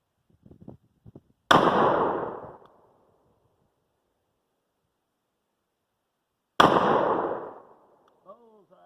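Two loud M14 rifle shots fired outdoors a few seconds apart, each a sharp crack followed by a long rolling echo, with faint handling clicks before the first and a brief metallic ping after the second.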